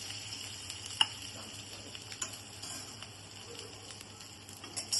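Chopped ginger and garlic frying in a pan for egg fried rice, a faint low sizzle with a few light clicks and taps of stirring.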